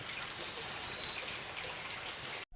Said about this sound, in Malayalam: ഇന്നലെ മുതൽ പെയ്യാൻ തുടങ്ങിയ മഴയാണ് കേട്ടോ, നല്ല മഴയായിരുന്നു.